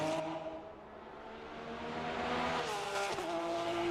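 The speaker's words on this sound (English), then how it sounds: "any tap of that wall going that fast, Jason, really throws the car off" GT3 race cars on the Long Beach street circuit, with loud sustained engine drone and shifting pitch as cars accelerate, plus a brief tire squeal near the end; no talk.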